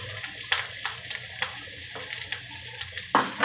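Chopped onion and green chili sautéed in a pan, a continuous sizzle broken by several sharp spatula scrapes and taps, close up.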